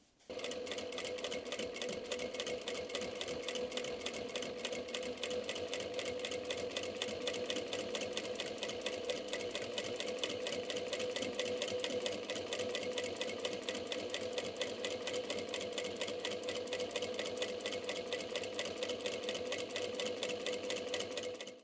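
Steady rapid needle thumping of a sewing machine stitching 4 mm felt through a binder attachment, running continuously at an even fast rhythm for over twenty seconds, close and unaccompanied by speech.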